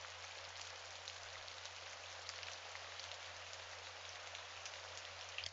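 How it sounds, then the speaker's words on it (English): Rain falls steadily outside at midnight, a soft, even, continuous patter with a low steady hum beneath it, quiet and unbroken throughout. "There's rain outside."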